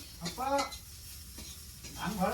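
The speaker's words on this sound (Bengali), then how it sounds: "সোয়াবিন ভাজা করে নিচ্ছি" Soybean chunks fry in a pan, a soft sizzle running underneath nearby voices that talk over it at the start and end.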